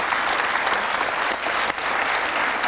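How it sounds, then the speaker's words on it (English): Audience applause for the finalists at the Cinzano Model of the Year 1987 contest: a dense, steady roar of many hands clapping, fairly loud and unbroken throughout, with no voices over it. "I think it's worth a round of applause for the time and effort that they've put into their dresses."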